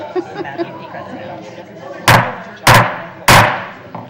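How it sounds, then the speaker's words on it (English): A gavel opens a Minneapolis Park and Recreation Board meeting with three loud, sharp wooden strikes, evenly spaced about half a second apart, after low room chatter. "It's a gavel,"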